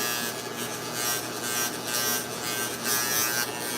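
Electric hair clippers fitted with a 3/8 guard buzz steadily while trimming hair, the motor drone rising and dipping slightly as they pass over the head, close and constant with no talk.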